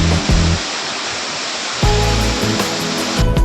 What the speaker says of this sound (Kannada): ಜಲಪಾತದ ಗರ್ಜನೆ ಕೇಳಲು ಆರಂಭವಾಗುತ್ತದೆ